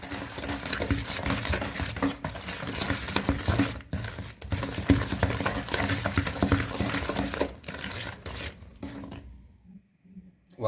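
An egg is stirred into chocolate chip cookie batter, a thick, wet, rhythmic scraping and sloshing of a spoon in a bowl that runs steadily, pauses briefly, then fades to silence at the end.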